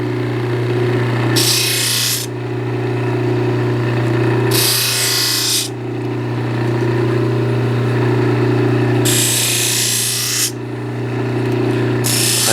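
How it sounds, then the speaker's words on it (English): A bench buffer wheel runs steadily as small metal parts for a five-cylinder radial engine stand are buffed and deburred, with a constant motor hum and repeated bursts of bright grinding hiss each time a part is pressed to the wheel. "I'm gonna turn on the buffer over here and buff them."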